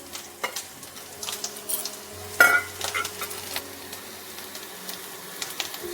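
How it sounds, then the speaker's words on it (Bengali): Spice paste with cumin powder sizzles softly in a pan as it is stirred, a steady low frying hiss broken by light scraping strokes and one brighter clatter near the middle. "এগুলো দিয়ে আমি সব কিছু দিয়ে ভালো করে মশলাটাকে কষিয়ে নেব"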